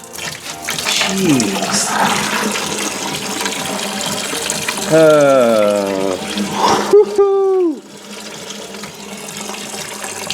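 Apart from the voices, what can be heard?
antifreeze draining into a bucket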